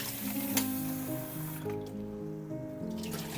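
Tap water runs steadily into a kitchen sink while tea and coffee cups and dishes are washed, a continuous close splashing with faint clinks.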